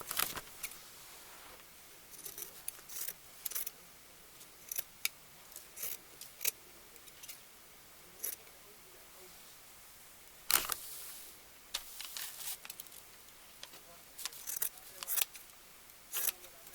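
Scissors cut excess cloth off a bunny wreath in a series of close, crisp snips in irregular clusters, separated by quiet pauses.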